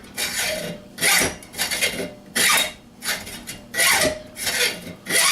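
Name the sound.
hacksaw cutting through 3/8 inch thick steel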